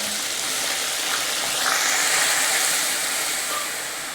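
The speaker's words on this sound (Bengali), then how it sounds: "এবার কড়াইতে কিছুটা জল দিয়ে দেব।" Water is poured into a hot wok of fried onions while making chicken biryani, giving a sustained loud sizzling hiss that swells and slowly fades, with no talk.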